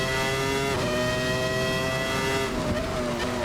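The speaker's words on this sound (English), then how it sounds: "Coming on the power as quickly as we dare. Fourth gear, short shift, full throttle now on the exit." A race car in Assetto Corsa on a wet track powers out of a corner at full throttle, its engine a loud, continuous high-pitched wail that climbs steadily through the gear, close and alone.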